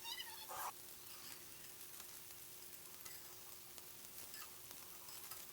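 Radish and egg mixture pieces fry lightly in oil in a pan, giving a steady, soft sizzle close by with occasional small crackles, and no one speaks over it.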